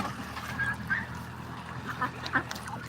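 Ducks on a Bangladeshi duck farm give several short honking quacks, spaced irregularly over a low steady background murmur, moderately close and not very loud.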